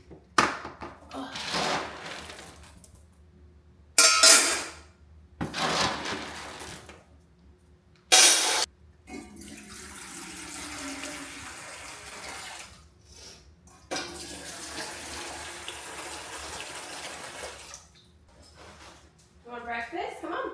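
Tap water runs in bursts into a dog's water bowl at home, with loud splashing interrupted by pauses and gentler flowing stretches, while a person talks intermittently.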